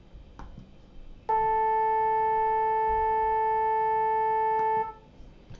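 A steady electronic tone at A440 holds at constant loudness for about three and a half seconds, then cuts off. Faint background noise sits before and after it.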